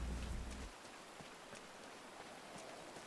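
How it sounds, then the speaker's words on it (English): Steady rain falls outdoors, a dense broadband patter with occasional louder drops. A low rumble is heard under it only in the first half-second, and the rain continues evenly at moderate level. "Oh, great. It's raining."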